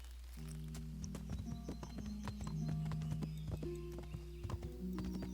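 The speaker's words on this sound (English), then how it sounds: "I know I can call the horse and, you know, go to the place with them" Horse hooves clip-clop in a steady walking rhythm in the video game Kingdom Come: Deliverance, a string of clear, evenly spaced hoof strikes over a low droning ambience, with no talk.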